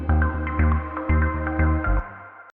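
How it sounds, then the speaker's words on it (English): A processed synth line is layered with orchestral elements and a deep, throbbing bass line, pulsing in a steady rhythm of loud, sustained chords that cut off abruptly. "Now let's hear it with the orchestral elements and the bass line."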